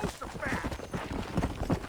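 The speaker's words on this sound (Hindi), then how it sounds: "फिलहाल के लिए अपने घोड़े को बुला लेते हैं" A horse's hooves clip-clop in Red Dead Redemption as the horse trots up, a steady rhythmic thudding over dense game ambience and music.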